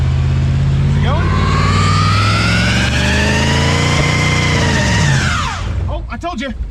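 A Chevrolet Nova donk car drives down the road, its engine a loud, steady mid-pitched drone that rises in pitch and then falls away near the end, with a few brief vocal sounds at the close.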